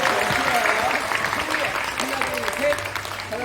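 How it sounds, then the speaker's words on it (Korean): Friends clapping for the bride and groom at a church wedding, a dense burst of close applause mixed with some voices. "우리 친구분들 이제 신랑 신부님 보면서 크게 박수 주시고"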